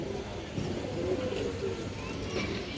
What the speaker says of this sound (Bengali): খুব সুন্দর একটা কবুতর এই দেখেন এটা পাল্লা করা একটা নর